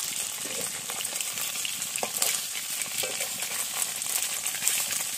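Eel fish sizzles and crackles steadily in hot oil, with occasional clinks of a utensil against the pan.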